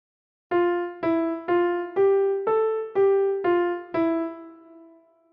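Single piano notes pick out the melody of All Through the Night, eight evenly spaced struck tones with clear harmonics, each ringing briefly into the next, the last one sustaining and fading; close and solo, with no voices.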